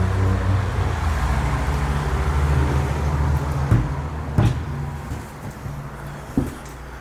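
Road traffic rumbles outside an abandoned bungalow, a constant low drone of passing cars and heavier vehicles with a few sharper thumps and swells as individual vehicles go by, fading slightly later.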